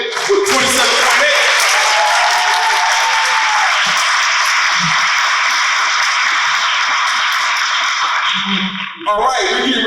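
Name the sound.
audience clapping for a slam poet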